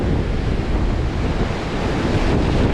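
Ocean surf and strong wind on an Oregon beach make a loud, continuous roar with heavy wind buffeting on the microphone and no voices.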